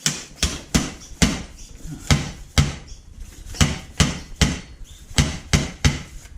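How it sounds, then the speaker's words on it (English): A fork bush is tapped down into a Honda CBR250R front fork, a dozen sharp, evenly spaced hammer knocks with metallic ring, close and alone. "we're going to gently tap down that bush"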